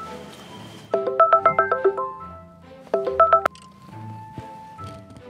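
A phone dials a call with two quick bursts of rapid, clear keypad tones, then a ring follows amid quiet room sounds.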